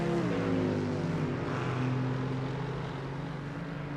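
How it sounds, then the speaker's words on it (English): Two V8 GT3 race car engines in a racing game rumble out of a final corner and climb a hill, a steady loud layered drone with shifting harmonic tones throughout, no voices. "Hear the rumbles of those two different V8 engines as they will sing their songs out of the final corner and head up the hill"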